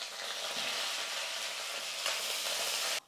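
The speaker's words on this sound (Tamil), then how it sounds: "பாருங்கள் கடலைப்பருப்பு பூண்டு எல்லாமே நல்லா வறுந்துடுச்சு." Chana dal and garlic frying in hot oil in a pan, a loud, continuous close sizzle that holds steady and then cuts off abruptly at the end.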